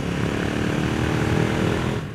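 A motorcycle fitted with an aftermarket Cobra exhaust runs at a steady, loud, close drone for about two seconds before the sound cuts off, with no talk over it.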